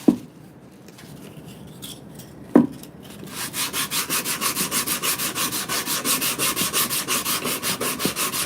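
Wood is sanded smooth before varnishing: after a couple of sharp knocks, steady rhythmic back-and-forth rasping strokes start up close and continue evenly to the end.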